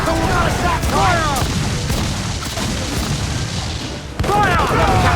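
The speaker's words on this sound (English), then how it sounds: "Cannon ready! Fire!" Ship cannons boom in Assassin's Creed 4: Black Flag as heavy, rumbling volleys roll out, loud and layered, while crew voices shout over the barrage.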